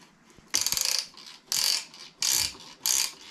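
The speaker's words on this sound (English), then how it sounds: "Okay, now that just clamped down around the piston and grabbed all the rings." A piston ring compressor tightened around a piston during a Yamaha golf cart engine rebuild, with four loud bursts of ratcheting clicks separated by short pauses, close up and with no voices.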